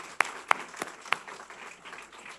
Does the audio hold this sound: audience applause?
yes